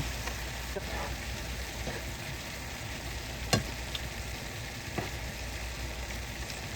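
Maple glaze with vinegar and olive oil bubbling and sizzling steadily as it reduces in a pan for pork medallions, a soft continuous fry with a few faint clicks of utensil contact.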